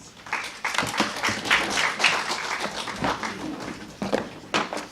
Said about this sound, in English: Let's give another big round of applause to Shailendra.